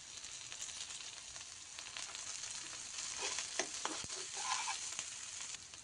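Chopped ingredients sizzle steadily in a pan with coriander leaves added, a continuous close hiss broken by a few sharper crackles and scraping stirs, with no voices.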